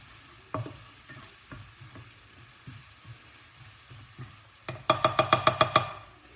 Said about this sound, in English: just mix it in with the butter and the onions